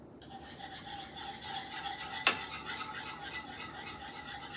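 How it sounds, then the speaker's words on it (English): A whisk scrapes and rasps steadily through yogurt sauce for Swedish meatballs, a continuous close rubbing texture with one sharper knock midway. "I'm actually going to get me a whisk."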